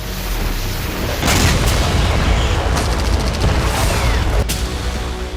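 Several heavy explosions from Russian FAB-500 guided bombs strike Ukrainian military positions, one deep blast after another rolling and booming over a constant loud rumble.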